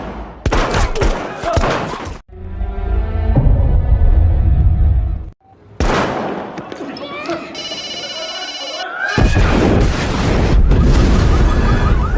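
Bombing of a police headquarters in the action film Operation Mekong, with loud blasts and bursts of gunfire-like impacts through a dense, chaotic film soundtrack, broken by brief quieter gaps.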